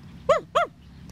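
A dog gives two short, clear barks in quick succession over a quiet background hum, in a children's animal guessing game.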